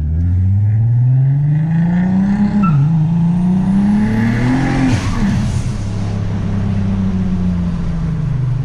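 A tuned stage 3 Golf R32 MK5 biturbo making 650 hp revs hard and loud, pitch climbing through gear changes with a brief dip, then settling into a steady high drone.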